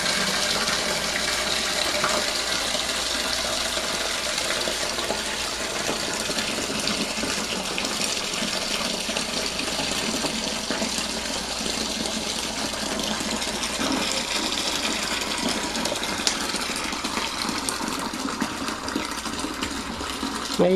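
Wine kit juice pours from a box into a plastic fermenting bucket in a continuous, gushing liquid stream, loud and steady throughout with no breaks.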